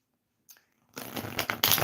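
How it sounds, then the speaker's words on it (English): Tarot cards shuffled by hand, a brief riffle followed by a dense, continuous flutter of card edges growing louder and fuller toward the end, close and without talk. "Shuffling the card"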